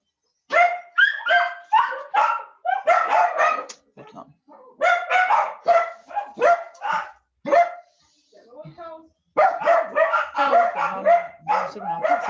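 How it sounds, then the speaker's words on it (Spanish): Several dogs bark in repeated bursts of sharp, close barks, with short pauses and a few softer yips in between. "estos pesados se ponen a ladrar"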